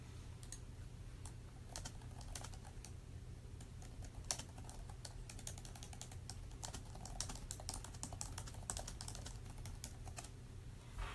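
A computer keyboard clatters with quick, irregular keystrokes as a question is typed, close and fairly quiet against a low steady hum, with no talking.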